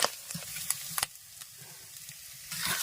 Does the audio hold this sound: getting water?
no